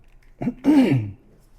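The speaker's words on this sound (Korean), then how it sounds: "자꾸 기침이 나와서" A teacher clears his throat once with a short rasping cough, close to the microphone in a quiet room.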